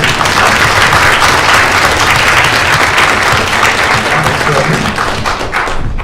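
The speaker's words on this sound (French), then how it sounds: "je vous demande de l'applaudir très fort" A convention audience at a Harry Potter panel at POPCON 2019 in Toulouse claps loudly and continuously, a close, heavy wash of applause with some thuds underneath.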